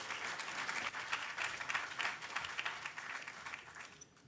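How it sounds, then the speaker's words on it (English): Hackathon closing-ceremony crowd applauding a team coming onstage, a dense wash of many hands clapping that holds steady for several seconds before thinning out near the end. "Please give them a massive round of applause."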